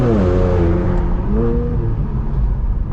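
JB4-tuned Infiniti Q50 engine pulling hard under full throttle, a loud continuous roar whose harmonics climb in pitch, dip at a shift, then rise again, heard from inside the car with no talk.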